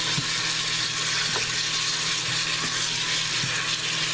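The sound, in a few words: beef tips searing in Farberware pressure cooker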